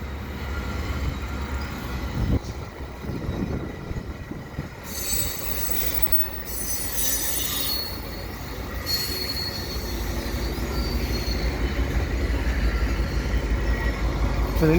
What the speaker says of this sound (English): Oh, and here comes an AMT train.